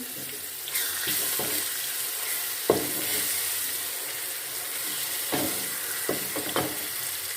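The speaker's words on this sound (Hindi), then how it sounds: "अब इसमें हम लहसुन अदरक का पेस्ट डालेंगे। अब इसको हम फ्राई कर लेंगे।" Garlic ginger paste frying with onions in a pan for chicken with bitter gourd gives a steady, hissing sizzle throughout, broken by a few sharp scrapes and stirs of a spoon, close and fairly loud, with no talking.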